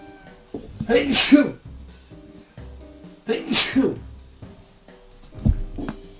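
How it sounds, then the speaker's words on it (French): Two loud, close sneezes in quick succession, each a sharp explosive burst with an intake of breath before it, followed by a softer third exhalation; a French-speaking man in a casual indoor setting, with quiet moments between. "Pardon, j'ai éternué."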